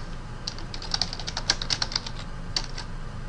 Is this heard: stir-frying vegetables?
no